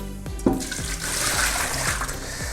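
Hot water poured out of a pot after boiling eggs for pickling, a steady rushing, splashing pour lasting the whole stretch, close by and fairly loud, with no talk.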